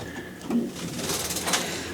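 Racing pigeon, a yearling hen, gives a soft low coo close by, a short murmured call amid quiet room noise with a faint scrape.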